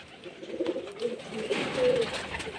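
Pigeons kept in a loft during hot weather coo softly and close, a low murmuring of a few rolling calls over a faint background hiss.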